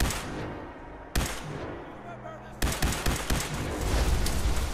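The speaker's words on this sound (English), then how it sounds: "Just shoot that and away we go." Gunfire in the video game Fallout 4, aimed at a rubble pile by a small lake: a single sharp shot, a pause, another shot, then a dense run of rapid, loud blasts.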